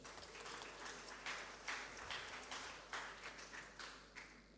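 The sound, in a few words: congregation applause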